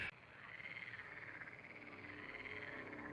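A frog croaks in a continuous rough, pulsing trill, quite close and alone with no other sounds.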